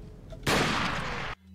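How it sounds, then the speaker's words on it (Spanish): A loud, sustained burst of gunfire in the video game Resident Evil 4 (Life in Hell mod) erupts suddenly after a quiet moment, holds for almost a second, then cuts off abruptly. "¡Madre mía, qué manera de disparar, por favor!"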